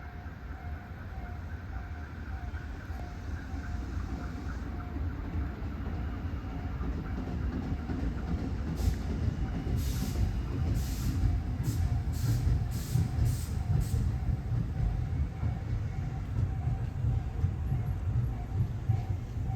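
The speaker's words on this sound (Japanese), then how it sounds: "各駅停車船橋行きが6両編成で参ります。" A Tobu Urban Park Line 8000 series six-car local train bound for Funabashi pulls into Shin-Kashiwa station with a steady low rumble of wheels and a sustained tone, with brief high brake hisses midway.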